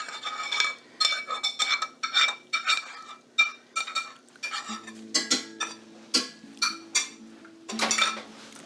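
Sauce goes onto pasta in a pot and gets mixed, with a quick run of close metal utensil clinks and scrapes against the pot, followed by slower stirring knocks under a faint low hum.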